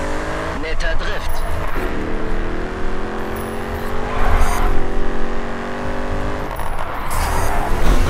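A race car drifts in the racing video game Grid 2, its engine roaring with squealing tires while someone talks in German over the game sounds.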